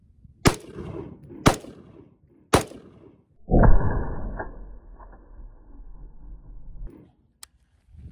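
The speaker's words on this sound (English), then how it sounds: "I'm going to go ahead and use the stand to do our horizontal shots" Three sharp, loud rifle shots fired from a stand with a JMAC Customs RRD-2C muzzle device, spaced about a second apart. A mechanical clatter and a sustained ringing rumble follow.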